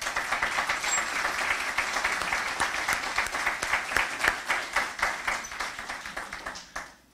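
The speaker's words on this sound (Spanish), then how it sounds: "para quienes pedimos un fuerte aplauso" An audience at a formal legal lecture on oral criminal trials gives a strong round of applause, bright individual claps standing out in a steady rhythm before it quickly dies away at the end.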